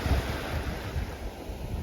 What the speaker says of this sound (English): the beach is just out there, the ocean, and the water's very lovely and blue